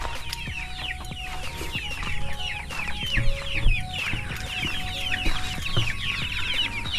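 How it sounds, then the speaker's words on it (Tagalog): Pet chickens cluck continuously nearby in a dense, overlapping chorus, with occasional knocks and background noise and no talking. "Mga kalingap po yung alaga po nilang mga manok po."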